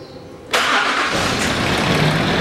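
Land Rover Discovery 3 engine cranking and catching at about half a second, then settling into a steady, loud, close idle for the rest.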